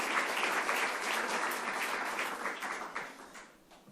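An audience applauds at a live event, with dense, sustained clapping that stays loud and then gradually fades toward the end, with no one speaking over it.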